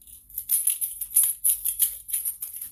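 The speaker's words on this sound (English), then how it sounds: "Another example of a shaker that you can use is something as simple as some keys." A bunch of keys is shaken like a shaker, giving bright metallic jingling in uneven rhythmic pulses, close and fairly quiet, with no voices.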